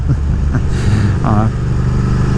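A Triumph Speed Twin motorcycle, fitted with a TuneECU tune and traction control, pulls hard under loud, continuous engine roar with wind rush, its pitch rising and shifting as it accelerates.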